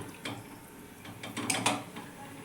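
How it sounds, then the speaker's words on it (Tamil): A pressure cooker is rinsed with a little water, with several close metallic clanks and knocks of the pot over a soft splash of water. "கொஞ்சமாக குக்கரை மட்டும் கழுவி தண்ணி ஊற்றிக்கலாம்"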